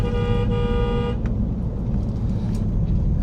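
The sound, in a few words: car horn honking while driving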